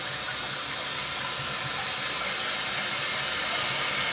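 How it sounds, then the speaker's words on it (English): Water rushing steadily from a toilet held half-flushed by its lever, refilling the bowl before plunging; a continuous, close, even hiss and gurgle with no talk. "So I'm holding the lever and I'm halfway flushing, because I want to bring that water level up."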